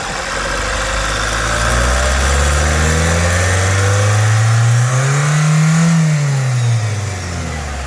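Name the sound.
Renault Kadjar 1.6 diesel engine revving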